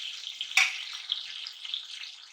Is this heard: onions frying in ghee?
yes